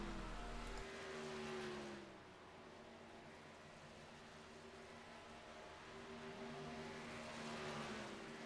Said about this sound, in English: I'll let you guys enjoy the car sounds in the background